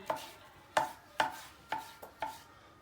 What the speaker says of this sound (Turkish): Bir tane biber kapya doğruyoruz içine.